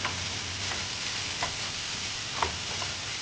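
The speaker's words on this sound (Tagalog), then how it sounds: "So, para hindi masunog yung ating egg, lutuin ko na muna yung ating ham." Ham frying in a little oil in a pan, a steady soft sizzle with a few faint clicks, with no talking.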